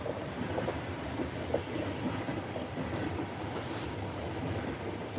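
A train rolling past at the seaside, a steady broad rumble with wind noise that holds evenly throughout, moderately loud and unbroken by voices.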